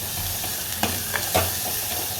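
Vegetable curry with sprouted moth beans being stirred and fried in a small pressure cooker, a steady low sizzle with a few distinct spoon scrapes against the metal, close and without talk.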